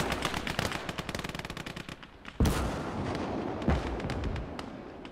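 A 76 mm gun fires in a Gates of Hell: Ostfront tank battle amid rattling machine-gun bursts, with two sharp, heavy booms standing out over the dense crackle of gunfire.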